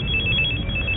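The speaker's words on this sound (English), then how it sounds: "I'm ringing Rob's cell now" Cell phone ringing, a high electronic trill pulsing steadily for about a second, close and clear with no talk over it.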